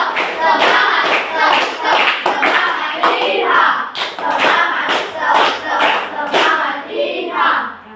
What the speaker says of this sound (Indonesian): Tepuk semangat lagi sekali. Tepuk semangat.